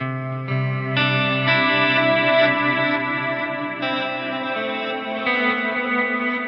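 Sustained electric guitar chords ring out through an HX Stomp with repeating tape delay echoes and a wash of reverb, each new chord layering over the fading tail of the last.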